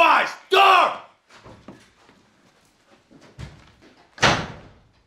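A door slammed during filming on the set of the horror film IT, with loud sharp bangs at the start and near the end, separated by quieter shuffling, and crew voices talking in between.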